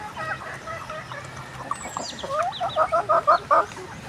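A hen clucks close by among her chicks, with scattered chirps building to a run of short, rhythmic clucks near the end.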